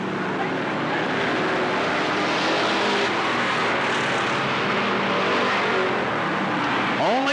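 Race cars in the limited sportsman class roar around the Cottage Grove Speedway oval in 1991, a loud, continuous engine drone with rising and falling pitch as cars pass close by.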